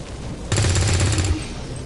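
A short burst of rapid gunfire from XCOM 2 breaks in loudly after half a second and rattles for under a second before cutting off into quieter ambience.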